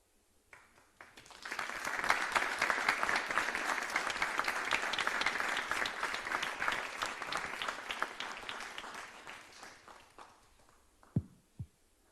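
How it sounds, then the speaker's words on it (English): Sustained audience applause at a memorial celebration, a dense wash of many hands rising quickly and holding steady for several seconds before tapering off, with a couple of louder isolated claps at the end. "Let's give another round of applause to Acyuta Gopi."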